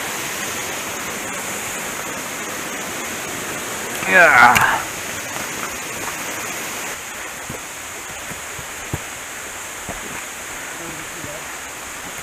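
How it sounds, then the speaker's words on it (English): Mountain waterfall in a Pisgah National Forest stream setting, a constant broadband roar of falling water that stays even throughout, with a brief louder splash or voice burst near the middle and a short spoken word. "Taking our final cast here at the waterfall."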